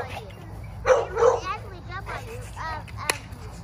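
A dog gives a couple of short, close barks and whiny vocalizations, mixed with a person talking nearby.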